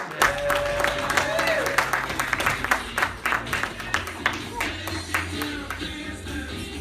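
A crowd at an improv comedy interview show applauds the studio owner and manager as he arrives, a dense, loud patter of many hands with sharp claps standing out and a few voices mixed in.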